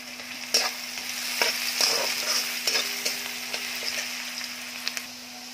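Onions frying in a pan with a soft steady sizzle, broken by repeated scraping clicks as a spoon stirs them, close and fairly quiet, with a low steady hum underneath and no talking.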